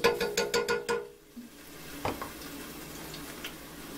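Garlic added to a hot pan, a soft sizzle that rises after a quick run of clicking taps, faint and steady with occasional stirring scrapes.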